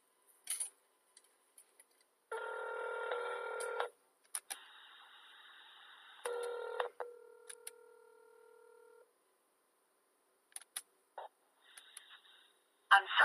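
Phone keypad tones and ringing blips sound in short bursts with gaps of silence as a call is placed, fairly close and clear with no talking.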